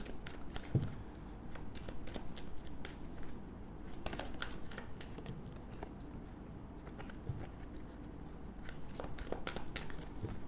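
Tarot cards being shuffled by hand, a steady dense riffling and sliding rustle running the whole time, close and fairly even in loudness, with no talking.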